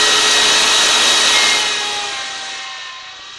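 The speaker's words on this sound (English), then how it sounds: "all the dust that's cut up is going to be sucked back into the shop vac" A router cuts while a shop vac sucks away the dust during 1988-style sign making, a loud, high, steady whine with rushing air that holds and then slowly fades as the motor winds down.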